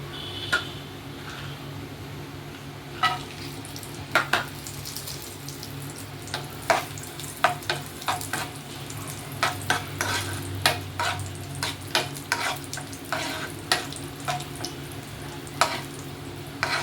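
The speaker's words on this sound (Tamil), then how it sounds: "இப்போ முந்திரி திராட்சையை நம்ம நெய்யில் வறுத்து எடுத்துக்கலாம்." Cashews and raisins fry in ghee in a pan on the stove, giving a steady low sizzle broken by frequent sharp clicks and scrapes of a spoon stirring against the pan.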